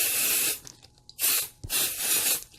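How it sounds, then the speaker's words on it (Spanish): 505 spray adhesive hisses out of an aerosol can onto quilt fabric in three close, sustained bursts separated by short pauses. "Entonces, simplemente tomamos el spray. El 505, como les dije, no deja residuos"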